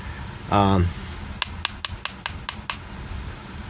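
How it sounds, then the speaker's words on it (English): A weighted wood chisel carves into wood in a series of sharp, evenly spaced taps and scrapes after a short vocal sound. "Now I'm using a weighted chisel, wood chisel, that's got a little weightiness to it"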